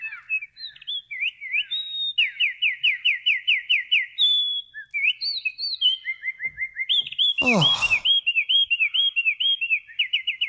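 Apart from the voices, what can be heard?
winter wren song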